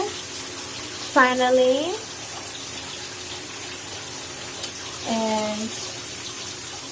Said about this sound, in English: I'm in the shower,